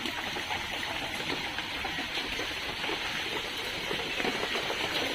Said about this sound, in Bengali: জল ফুটছে